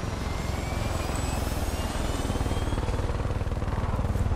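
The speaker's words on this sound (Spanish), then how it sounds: "lo he escuchado cómo se han llevado mi... Se han llevado mi helicóptero, tío." A helicopter in the video game Far Cry 5 flies off, a loud, steady, pulsing rotor and engine drone that fills the whole stretch without talk.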